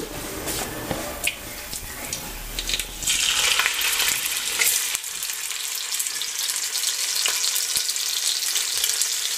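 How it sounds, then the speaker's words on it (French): Meat browning in a pot for a molokhia stew, after garlic and blended onions went in: a steady, dense sizzle and crackle of frying fills the whole stretch, close and fairly loud, with occasional sharper pops and stirring scrapes, no speech. "Maintenant, c'est le moment de faire revenir la viande."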